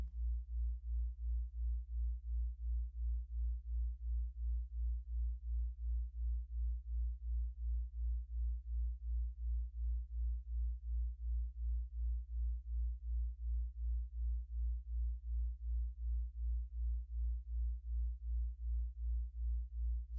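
A steady, very low 56Hz binaural sine tone hums alone, softly pulsing in an even rhythm throughout with no other sounds.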